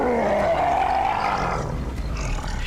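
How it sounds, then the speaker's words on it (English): A monster in a Halloween indie video game lets out one loud, drawn-out roar that swells, then trails off into a rumbling growl over a noisy game background. "Hanna-Barbera monster sound."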